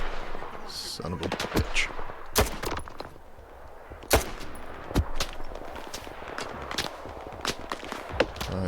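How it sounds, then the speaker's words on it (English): Enemy gunfire in STALKER 2 cracks out in scattered single shots and short bursts, some loud and close and others fainter, over a low ambient rumble, with a man swearing briefly between shots. "I am taking fire."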